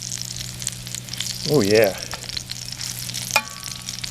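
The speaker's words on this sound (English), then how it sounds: "We're going to cook the eggs right in the sausage grease." Sausage grease sizzles in a canteen cup over a campfire with a faint, steady frying hiss. A short spoken exclamation and a small clink sound over it.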